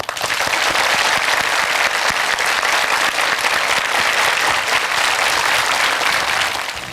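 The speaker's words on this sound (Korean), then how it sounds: "그들에게 박수 한번 쳐주시면 고맙겠습니다" Sustained, dense applause from a large studio audience at a televised Korean lecture show, steady and loud for several seconds before tapering slightly at the end.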